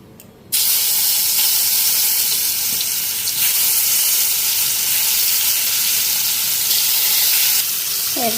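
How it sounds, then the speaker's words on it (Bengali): Pointed gourds dropped into hot oil and frying, a loud steady broadband sizzle that starts abruptly after a short quiet moment and holds dense and close to the end, with a faint clink near the finish. "এখন কাঁকরোলগুলি দিয়ে আনি"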